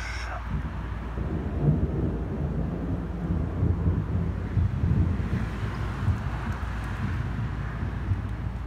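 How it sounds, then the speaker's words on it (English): A low, rolling rumble of thunder swells and fades over steady wind noise, giving a continuous stormy roar with no one speaking. "I love storms."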